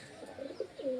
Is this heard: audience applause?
no